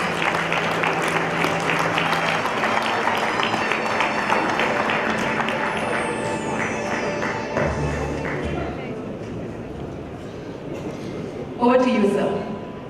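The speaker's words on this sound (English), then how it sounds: "By clapping our hands, let us extend a warm welcome to Mr." An audience at a financial knowledge summit applauds to welcome speaker Balkrishna Kini, with a dense spread of clapping throughout, a few tones and thuds mixed in, and a louder clatter near the end.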